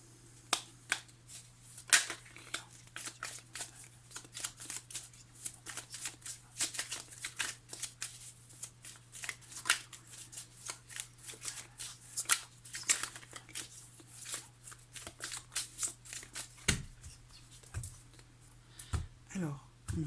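A deck of tarot cards shuffled continuously, rapid close riffling clicks and flutters running steadily throughout under a low steady hum, with brief voice bits near the end.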